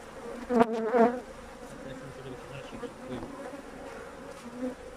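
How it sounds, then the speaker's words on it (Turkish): Honeybees buzzing close by at an open 10-frame hive, a dense steady hum with a couple of louder passes near the start as insects fly past. "Arı yoğunluğu da güzel."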